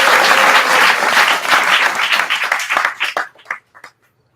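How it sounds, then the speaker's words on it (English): Loud, dense applause from a large convocation ceremony audience, many hands clapping together before it breaks into scattered individual claps and stops. "Big round of applause"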